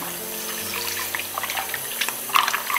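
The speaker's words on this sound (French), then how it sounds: "Donc, juste rincer avec de l'eau, tout simplement." Running tap water pours over raw liver and heart being rinsed, a steady splashing stream with small irregular spatters and drips that grow busier near the end.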